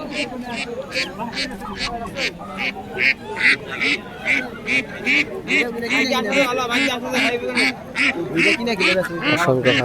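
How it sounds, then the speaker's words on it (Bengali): Ducks quack at a village poultry market, a dense, rapid run of loud nasal calls close by, with people talking over the busy chatter of birds. "হাঁস"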